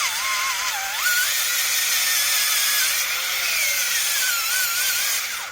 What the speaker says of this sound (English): take the drill, and then just force it down like this